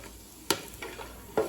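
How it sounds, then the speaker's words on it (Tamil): Whole cinnamon, cloves, cardamom and bay leaves frying in hot oil with ghee for chicken biryani, giving a low sizzle broken by three sharp stirring clatters, close and without talk. "இந்த பட்டை கிராம்பு பொரியிறதுல தான் பிரியாணியோட வாசனையே இருக்குது."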